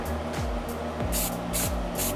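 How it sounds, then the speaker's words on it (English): Short hissing bursts from a spray paint can shading street art, three or four separate puffs in quick succession, close and fairly loud over a low background rumble. "Again, I'm spraying that very top edge."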